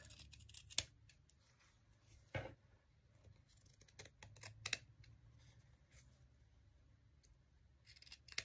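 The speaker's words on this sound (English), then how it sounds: "grab my bigger scissors and I'm just going to trim" Big scissors trimming fabric for a no-sew fabric snippet craft, several sharp separate snips spaced irregularly over quiet room tone, close and clear.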